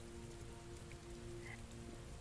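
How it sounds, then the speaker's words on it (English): Heavy rain in the video game Heavy Rain, a faint, steady downpour hissing evenly with a low droning hum underneath and no voices. "Heavy rain. It's been the same for weeks."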